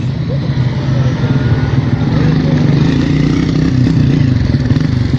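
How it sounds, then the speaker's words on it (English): A Toyota Hilux pickup drives past on a rural road in Ebonyi State, Nigeria, a loud steady engine rumble with road clatter that stays close throughout, with faint voices in the background. "Look at their Hilux car going."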